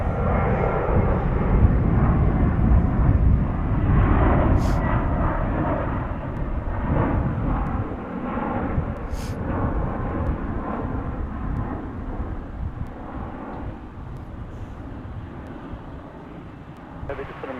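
Airliner jet engines roar at DFW Airport in Dallas, a loud broadband rumble that slowly fades over many seconds, with a few brief clicks on top.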